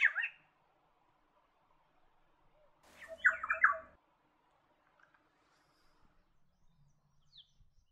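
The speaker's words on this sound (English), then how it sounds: "The yellow or green oriole is also found in the top end." A yellow oriole calls in tropical top-end woodland: a short squawky note at the start, then a louder warbling burst of several rich liquid notes, followed by near silence with faint distant chirps.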